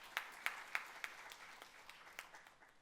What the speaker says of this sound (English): I request you all to please welcome him with a huge round of applause